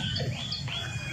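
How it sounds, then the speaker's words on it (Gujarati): A parrot high in a village banyan tree gives a few quick, thin chirps over a low background rumble, close and clear with no voices. "આ પોપટ ઉપર ઉડાયા"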